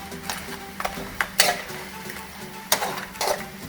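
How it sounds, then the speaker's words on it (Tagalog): A spoon stirs a crab and shrimp mixture simmering in coconut milk in a pot, making irregular close clinks and scrapes against the metal over a faint steady sizzle, with no talking. "after 2 minutes, stir it again"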